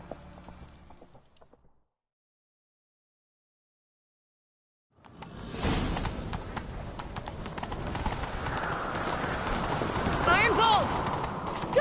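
Horse hooves galloping in a video game, a rhythmic clip-clop that begins after a stretch of silence and continues steadily, with a voice speaking early on.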